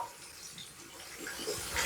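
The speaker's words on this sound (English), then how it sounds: "it's just mildly warm water coming out of that sink tap" Mildly warm water runs steadily from a bathroom sink tap, a continuous close hiss and splash that swells slightly toward the end, with no voices.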